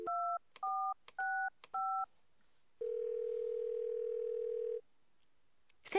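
Telephone keypad tones from the video game Thimbleweed Park: four distinct touch-tone beeps in quick succession, then a long steady dial tone, then a brief click as the line connects.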